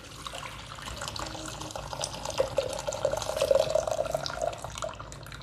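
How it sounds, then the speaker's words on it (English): Homemade Ayush kadha herbal decoction is poured through a strainer, a thin trickling and splashing stream that grows louder mid-pour and tapers off. "we are going to just strain it"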